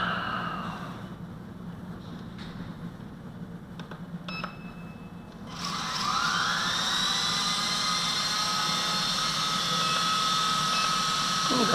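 A V913 RC helicopter with a new main motor and new tail motor is tested indoors. Quiet room noise and a few soft clicks give way to a rising high-pitched motor whine that spins up and then holds steady and loud.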